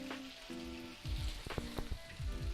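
Onions frying in a pan, a faint crackling sizzle with a few sharp pops, quiet and close, alone without talk.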